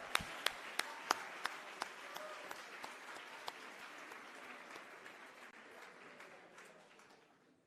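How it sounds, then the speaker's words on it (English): Audience applause at a commemoration event honoring Malcolm X, a steady round of clapping with a few sharp close claps early on, gradually fading out toward the end. "Give that sister another round of applause."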